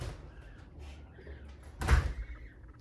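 A house door swings open to let a dog outside, with soft handling noises first and then one louder thud of the door near the end, close by.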